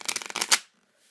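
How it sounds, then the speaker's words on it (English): A deck of playing cards is shuffled in a quick riffle, a close, loud burst of rapid fluttering clicks lasting about half a second before falling silent. "give him a quick grand finale shuffle before the trick starts"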